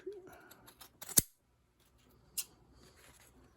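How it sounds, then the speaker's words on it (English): Material is cut to size with scissors during the restoration of an 1867 Chickering 33B piano: one sharp close snip with a couple of small clicks, then a second fainter snip in a quiet room. "Cut this off."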